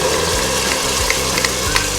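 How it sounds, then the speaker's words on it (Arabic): Loud, continuous sizzling of chicken sautéing with onions in a hot pan, with soft scraping from stirring now and then. "بدي شوحهم حوالي لدقيقة بس مع البصل"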